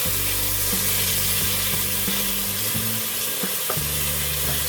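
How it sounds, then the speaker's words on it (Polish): Smoked bacon fries in a pan with a loud, dense, continuous sizzle up close, with occasional clinks and scrapes as it is turned, and no talking. "Boczek przewrócimy na drugą stronę."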